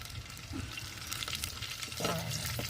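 Fenugreek and mustard seeds fry in hot oil in a clay pot over a wood-fired stove, giving a steady close sizzle and crackle with a brief stir or clatter near the end.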